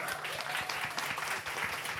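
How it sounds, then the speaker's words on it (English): Applause from the audience at a women in motorsports panel discussion, dense, steady clapping that runs throughout at moderate loudness. "big round of applause"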